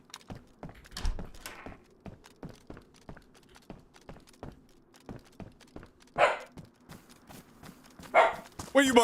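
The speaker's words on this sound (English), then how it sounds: "What are you barking at?" A dog barks repeatedly in short sharp bursts at close range, mixed with steady keyboard typing clicks and a couple of louder noisy bursts near the end.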